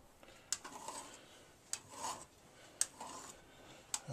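A file rasps down the edge of a cabinet scraper in four separate strokes spaced about a second apart, each a short, bright scrape up close. A quieter rubbing sound runs between the strokes.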